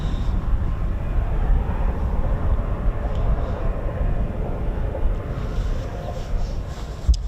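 A Eurofighter Typhoon FGR4 jet at RAF Coningsby produces a loud, continuous broadband roar with heavy low-frequency rumble and faint background voices.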